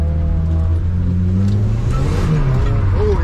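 A Volvo drift car on track, its engine, which has a hole in the block, droning and revving loudly and steadily with shifting pitch throughout, heard from close by.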